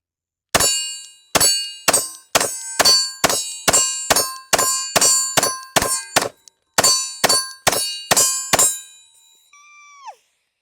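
A Glock 19X pistol fires about seventeen shots at steel targets in a quick, even cadence with one brief pause midway, each loud crack followed by a ringing metallic clang that fades before the next.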